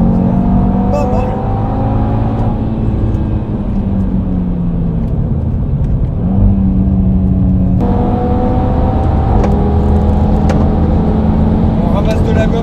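An Audi RS sports car accelerates hard at high speed on track, its engine note climbing through gears under a steady roar from inside the cabin, with someone talking over it.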